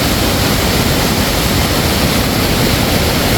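Largest waterfall on the Mekong in southern Laos during the rainy season at peak flow, a loud, dense, unbroken roar of rushing water filling the whole short stretch.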